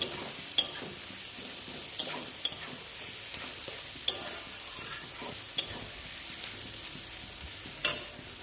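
Meat curry with green chili frying in a pan, a soft steady sizzle under regular spoon stirs and sharp clicks against the pan, fairly quiet and without speech.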